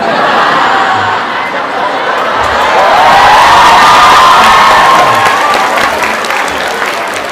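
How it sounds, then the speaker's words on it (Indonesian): A student audience at a university gathering gives loud, close applause for Pak Lukman, sustained clapping mixed with cheers and crowd chatter that swells in the middle. "coba lengkap ini beri tepuk tangan"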